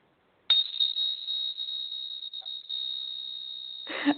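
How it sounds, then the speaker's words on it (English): Hand-held chimes struck once, giving a bright sustained metallic ring that holds steadily and slowly decays, close and clear, followed by a brief rustle of handling at the end. "For those of you that can see it, you can see I'm holding chimes."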